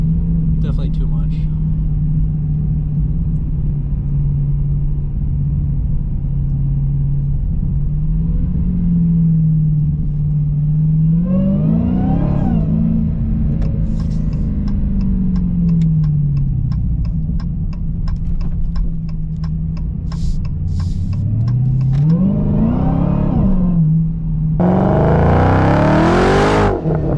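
A Dodge Challenger Hellcat Redeye engine drones low and steady while driving, with several revving surges that climb in pitch and a loud acceleration burst at the end, heard from inside the car.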